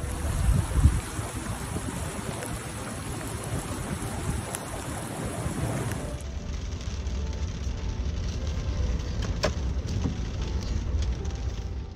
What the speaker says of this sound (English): It has been raining heavily this evening in the city of Taif with gusts of wind and hail.